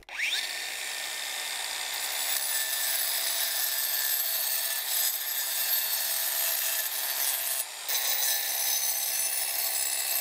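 A DeWalt power tool bores planting holes in garden soil for pots, giving a continuous, loud, gritty whir for about ten seconds with a brief dip near the end and no talking.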